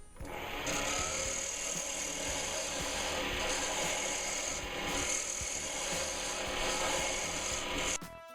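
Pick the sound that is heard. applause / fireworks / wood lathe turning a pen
wood lathe turning a pen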